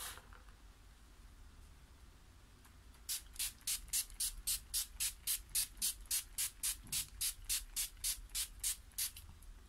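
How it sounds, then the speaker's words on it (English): Makeup setting spray fires in a rapid run of about twenty short, even, hissing pumps after a quiet start, close to the listener with no talking. "Going in with my setting spray just to set my makeup."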